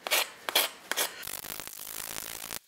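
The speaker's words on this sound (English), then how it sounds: "So I'm gonna use the saw rasp and get it shaped down real quick" A Shinto saw rasp shaping a wooden spoon carved from invasive tree wood gives close, dry scraping strokes: a few separate rasps at first, then a quicker run of steady filing that stops abruptly near the end.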